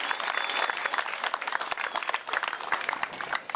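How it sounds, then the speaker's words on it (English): A crowd at a national spring team championships event applauds a departing Nike sponsor, with dense, sustained clapping filling the room at steady loudness throughout. "can we give him one more round of applause for the sponsorship?"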